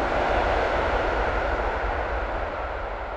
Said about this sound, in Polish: Faktycznie jest to most kolejowy. Właśnie jedzie pociąg.